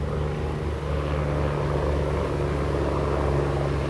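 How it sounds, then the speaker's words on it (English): A helicopter or similar aircraft droning steadily overhead, a loud continuous rotor and engine hum that holds at a constant level throughout with no talking. "a helicopter."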